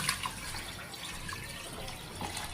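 Water poured into a pot of broth while cooking shrimp sinigang, a faint, close trickle and splash with small drips and no talking.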